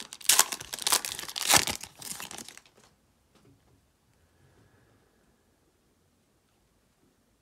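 A 2024 Topps Chrome trading card pack is torn open: sharp, loud crinkling and ripping of foil wrapper for about two and a half seconds, then near silence with faint handling.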